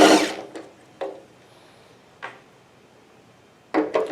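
Loosening 8mm bolts with long shanks on a fuel tank gives a few sharp metallic clicks and ratchet-like bursts, a loud cluster at the start, then isolated snaps spaced out, ending with another burst.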